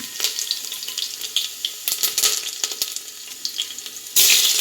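Mustard seeds and a small piece of shallot fry in hot oil for a Kollam-style Kerala lunch, giving an uneven crackle of pops and sizzles. A louder burst of sizzling comes right at the end.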